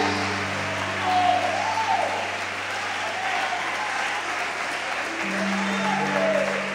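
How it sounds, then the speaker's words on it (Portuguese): Church congregation applauding the Lord during an evening worship service, steady sustained clapping throughout, with a sustained organ or keyboard tone underneath and faint voices now and then. "glorifique e aplauda ao Senhor nessa noite"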